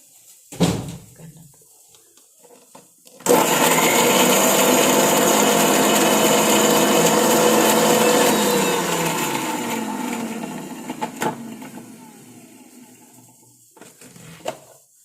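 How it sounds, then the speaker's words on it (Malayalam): A mixer grinder whirs loudly as it blends raw mango and green chillies with salt for a chutney. A steady motor roar runs for about eight seconds and then winds down, with a few knocks before and after. "ഇത് മാങ്ങയും പച്ചമുളകും കൂടി ഒന്ന് കറക്കി എടുക്കണം"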